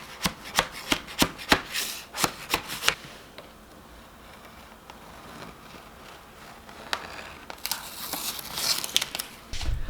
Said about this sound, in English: I'm just going to cut it all the way off right here.